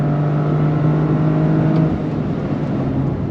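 A 2023 Toyota GR Corolla Circuit Edition engine holds a steady, loud high-rpm drone near its 7,000 rpm redline, easing slightly toward the end with no voices over it.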